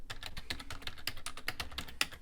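Rapid clicking keystrokes on a computer keyboard as a file name is typed, close and clear, with an irregular rhythm of individual key taps and one sharper press near the end.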